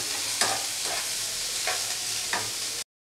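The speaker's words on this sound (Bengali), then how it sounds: "হালকা ভাজা ভাজা করে নেবো এটাকে," Onion and chili lightly frying in oil, a continuous close sizzle broken by four rhythmic scraping stirs spaced about a second apart, then sudden silence.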